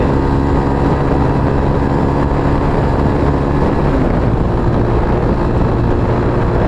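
Mojo 200 motorcycle accelerating hard through the gears on a road, a loud continuous engine roar heavy with wind buffeting, the pitch shifting as it climbs with speed, recorded close and unbroken throughout.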